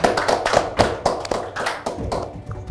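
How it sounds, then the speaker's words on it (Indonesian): Studio audience clapping to welcome two guests, a small group producing close, uneven bursts of claps with distinct individual hand strikes. "Tepuk tangan untuk kedua narasumber kita kali ini"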